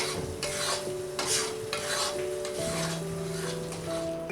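Wheat flour roasting in ghee, stirred with a spoon in a pan, giving a soft continuous scraping and gentle sizzle with rhythmic stirring strokes, close and steady.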